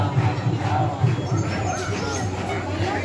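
A crowd of devotees at Kalkaji Mandir temple in Delhi, a dense murmur of many voices close by, continuous and fairly loud with shuffling and babble throughout.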